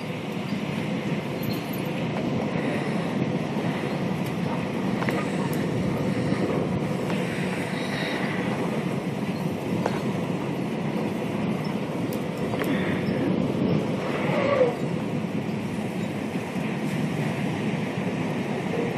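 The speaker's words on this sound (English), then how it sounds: "Look at that wind." Strong storm wind roars steadily in Kansas City, Kansas, a broad continuous rushing noise with occasional faint snaps and gusts, no talking.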